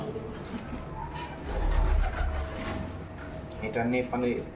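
Soft cooing from a male pigeon, a few low throaty coos close by, partly under someone talking.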